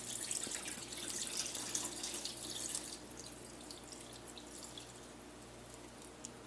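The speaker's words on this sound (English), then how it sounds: "And I'll carefully dump out just the water without letting the rice come out." Rinse water pours off rice in a pot into a sink, a steady close splashing stream for about three seconds that then thins to softer trickling and dripping.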